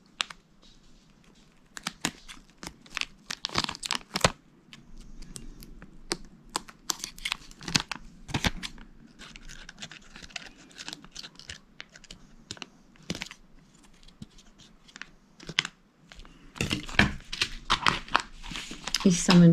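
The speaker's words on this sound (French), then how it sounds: "Je vais découper les petits bouts qui dépassent." Close, irregular snipping and crinkling sounds, small scissor cuts trimming protruding bits of 3D tape, with a faint hum beneath.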